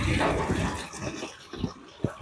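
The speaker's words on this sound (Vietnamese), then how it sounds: "Suối nước đẹp như mơ." A mountain stream flowing through a scenic spiritual site in Vietnam, its close, rushing, gurgling water steady for about two seconds with a few brief splashy bursts near the end.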